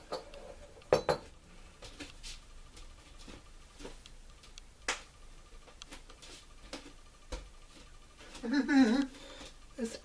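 A tea strainer and a small inherited glass clink and tap against each other while a hot toddy is being made, giving sparse, quiet metallic clicks and a brief rattle near the end over a faint room hush.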